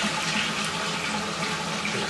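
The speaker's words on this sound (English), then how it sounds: "flush the loo" A household toilet flushing, water rushing and draining out in a steady, close, noisy wash that holds level throughout without talk.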